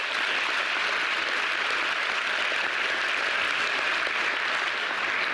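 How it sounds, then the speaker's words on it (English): Sustained, dense applause from a large commencement audience at a university graduation ceremony, steady and loud throughout with no talking over it. "Give yourselves a round of applause"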